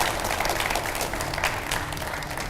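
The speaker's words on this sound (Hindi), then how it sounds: "इन सब के लिए भी तालियां बजाए जाएं" Warm studio audience applause for panel guests on a TV talk show, including a Supreme Court advocate, a steady wash of claps throughout the short burst.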